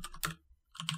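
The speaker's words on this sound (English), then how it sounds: "There's quite a bit of redundant typing there" Rapid clattering keystrokes on a computer keyboard while coding a web server, two dense bursts of clicks separated by a brief pause, close and clear with no talking.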